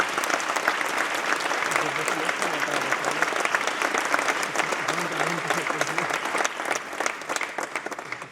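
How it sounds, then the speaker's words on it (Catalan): Sustained, loud applause from a large crowd at the Corpus festival in Sitges, steady clapping throughout with a faint voice underneath. "Doncs un fort aplaudiment per ells."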